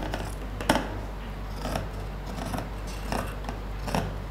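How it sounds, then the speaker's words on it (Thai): Fabric scissors cut cloth laid flat on a table along marked seam lines while a skirt is being made, with several sharp, close snips spaced irregularly over a low steady background hum. "ก็ต้องใช้กรรไกรเฉพาะตัดผ้าด้วยเนาะ"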